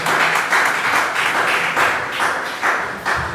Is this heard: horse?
no